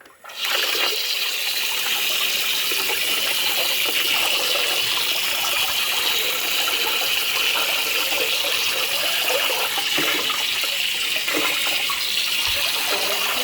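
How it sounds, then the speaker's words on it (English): Aquarium filter cartridge rinsed under a steady stream of running tap water, a continuous loud splashing rush close by that holds evenly throughout, with no talking. "Says it needs to be rinsed out with water thoroughly and dried."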